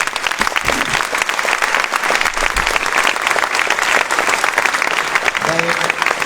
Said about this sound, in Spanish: les invito a que les podamos dar un fuerte aplauso a cada uno de ellos